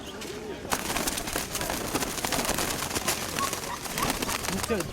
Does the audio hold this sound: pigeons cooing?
yes